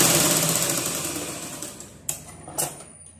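Sewing machine running steadily while stitching a shoulder seam, then slowing and stopping, followed by two short bursts of stitching.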